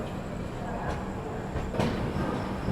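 West Bengal Sampark Kranti Express rolling through Prayagraj Junction at night as it overtakes the Magadh Express, a steady close rumble of railcars with a brief sharper clatter partway through, speech faintly mixed in.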